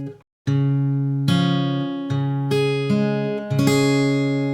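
Acoustic guitar fingerpicking, plucked notes ringing in a rolling pattern with pinched bass and treble strings struck together, played alone.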